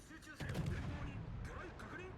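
Cruiser main-battery salvos in World of Warships, fired by a Japanese Tier VII premium cruiser, the Tokachi: a deep, loud booming roar opening sharply and rumbling on through the clip, with faint voice-like traces mixed in.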